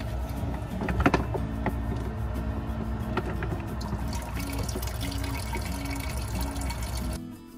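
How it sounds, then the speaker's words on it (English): Water pours steadily into a Berkey water filter inside a pop-up truck camper in winter, with a few clunks and knocks over the continuous flow, which stops near the end. "After filling up our water filter"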